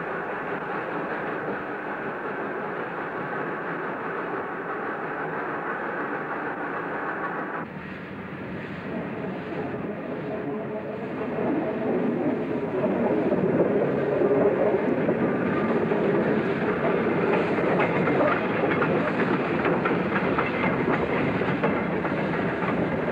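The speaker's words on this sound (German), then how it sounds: "Mit viel Schwung setzte sich der Zug aus einer Lok und einem alten Inspektionswagen in Bewegung." Wood-fired steam locomotive in Indonesia hauling an old inspection car as it sets off, a continuous rumbling roar with rhythmic rail clatter that grows louder partway through, with no talk.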